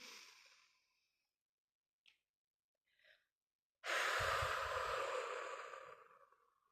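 A person draws a slow, deep breath: a soft inhale fades out, then after a pause a long, loud, close exhale rushes out and slowly tapers away.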